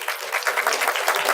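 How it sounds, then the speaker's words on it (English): An audience at a classroom-style gathering gives a short burst of lively, even applause, close and continuous. "Give them a big round of applause"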